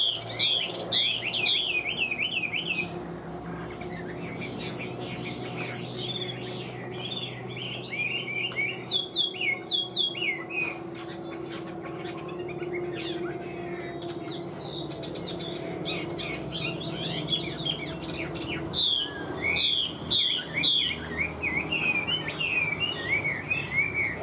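A caged Chinese hwamei songbird sings loudly and close, pouring out bursts of varied whistles, trills and sharp chirps with brief pauses, over a low steady background hum.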